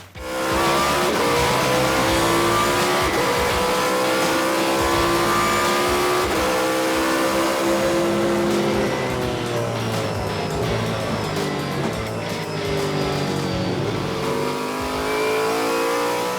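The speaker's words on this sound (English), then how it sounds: "We're going to hit the throttle really hard, and we're going to shake and bake" A Trans Am race car at full throttle on the Mid-Ohio road course, its loud engine roaring and climbing through the gears close up for the whole stretch, with no talk over it.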